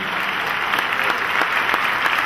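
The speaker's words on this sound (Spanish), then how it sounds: "Denle un aplauso al Señor Jesucristo." A church congregation bursts into applause during a worship service, a dense, steady wash of many hands clapping together at close range for a couple of seconds.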